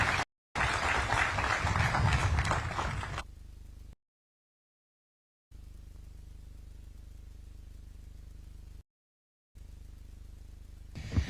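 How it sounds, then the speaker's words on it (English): Audience applause at a university graduation ceremony with the president present, a loud broadband burst of clapping for about three seconds, then a low steady hiss with dropouts. "Another round of applause for His Excellency"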